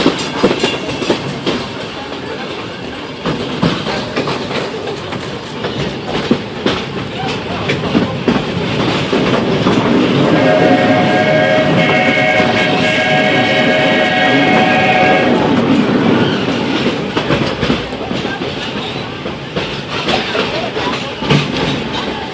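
The Magic Kingdom railroad train rolls along its track with a steady rumble and clatter, loud and close, and a whistle sounds midway through as voices talk over the ride.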